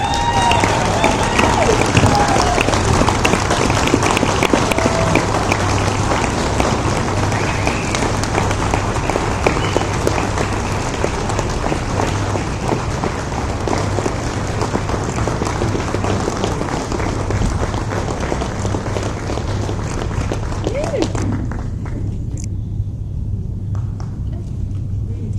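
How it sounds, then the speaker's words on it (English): An audience at a Chamber of Commerce community awards dinner applauds the Citizen of the Year, a loud, dense, sustained ovation that fills the room and then cuts off near the end. "Please join me in applauding our Citizen of the Year"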